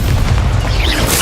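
A Confringo fire-blast spell in Hogwarts Legacy going off as a loud, booming burst, a single heavy explosive impact with rumbling low end that fills the short moment.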